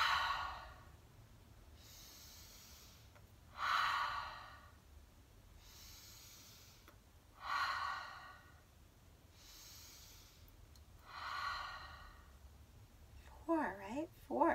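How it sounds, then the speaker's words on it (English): Slow, deep breathing in through the nose and out through the mouth, a few soft airy breaths spaced evenly every few seconds, close and gentle, led during a children's circle time, with a brief voice at the end. "In through the nose, out through the mouth, close our eyes."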